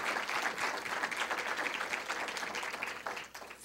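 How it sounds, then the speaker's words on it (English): Round of applause for a singer of traditional Mexican music at a scholarship presentation, steady moderately distant clapping from an audience that tapers off toward the end. "let's give this wonderful, wonderful artist another round of applause"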